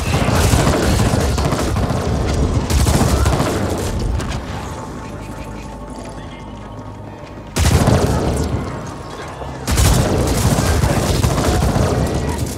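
Loud gunfire and booming explosions in the video game The Ascent come in dense, rumbling bursts that fall away into quieter gaps and then return abruptly, with heavy low-end impacts throughout.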